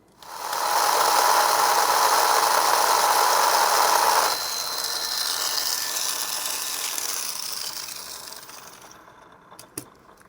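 Tamiya MA chassis mini 4WD car with a stock electric motor and refitted pinion gear running: a loud, high buzzing whine that steps down after a few seconds, fades out, then ends in a few sharp clicks.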